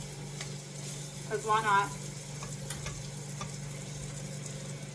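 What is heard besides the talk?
veggie patty being flipped and sizzling in a frying pan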